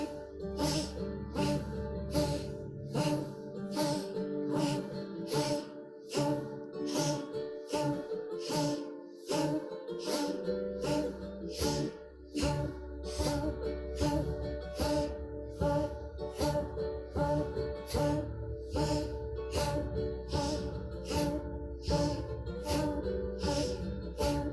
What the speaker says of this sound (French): La respiration est puissante par le nez.